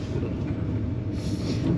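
A Southeastern train pulling out of Ramsgate station, heard as a steady, loud rumble of the running train with broadband wheel and rail noise that swells slightly near the end, with no voices.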